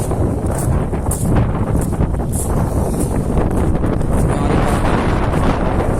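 Strong wind buffets the microphone at a seaside fishing spot at high tide, a steady loud roar with gusty rumbling throughout and no voices.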